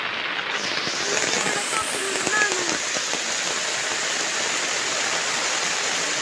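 Heavy rain pours down steadily and loudly during a flood at houses where water is rising into the homes, a dense unbroken hiss that fills the whole stretch.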